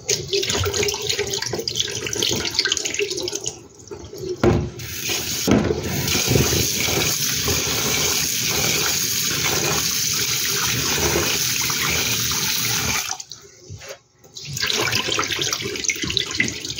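Tap water running steadily over glutinous rice being washed in a bowl, a continuous splashing rush with a brief pause midway and another near the end, no talking.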